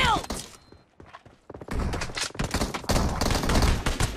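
Gunfire crackles in PUBG Mobile during a team match, with dense bursts of sharp shots and thuds after a short lull; excited voices shout over the shooting.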